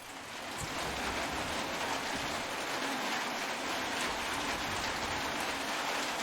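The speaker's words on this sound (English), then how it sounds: "hearing the rain on the tin roof and stuff like that" Steady rain drums on a tin roof in the video game Metro Exodus, a dense, even hiss that holds for several seconds without talk.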